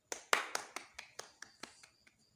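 A few people clap sparsely for a storyteller at a small gathering, about a dozen distinct, fairly quiet claps that slow and fade out, with no one talking.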